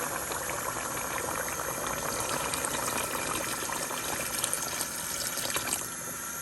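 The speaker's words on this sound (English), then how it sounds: "So I'm gonna add some more water." Water pours steadily into a pot of Jamaican curried goat, making a continuous gushing, splashing rush up close with no talking.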